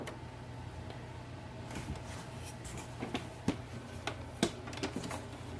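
An ink cartridge in an HP Envy 6120e printer slides in and clicks into place, sharp plastic clicks and snaps over a steady low hum from the machine.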